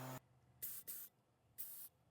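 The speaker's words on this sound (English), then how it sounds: "I'm spraying the first coat on here" Bursts of oil-based Varathane polyurethane finish, thinned about ten percent, sprayed as a first coat: four short, close hissing blasts separated by brief silences.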